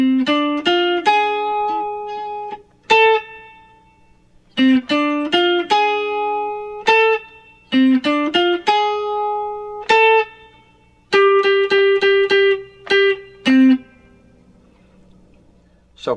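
Electric guitar plays a melody in short phrases of bright plucked single notes, some sustained, separated by brief pauses, close and alone.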